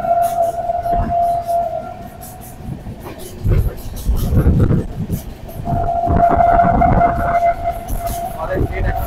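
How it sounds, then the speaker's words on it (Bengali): Duronto Express 22201 on its Sealdah to Puri run rumbles and clatters steadily along the rails, heard up close from inside, with a sustained hum and surges of heavy rolling noise. "আমাদের ট্রেন এখন যাচ্ছে ডাঙ্গা"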